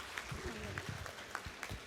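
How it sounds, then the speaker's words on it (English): Audience applause for a speaker at a technical conference session, soft, fairly distant clapping with a few more distinct claps standing out, faint overall. "Please give him another round of applause."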